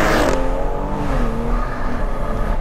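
A Stage 3 Pure800-tuned BMW M240i accelerates hard, heard loud and close from inside. The engine note climbs in one continuous rising pull.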